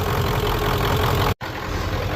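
A 7.3 Power Stroke diesel engine idling steadily as a makeshift jump pack, a loud, rough, even rumble close by with a brief dropout midway, then resuming.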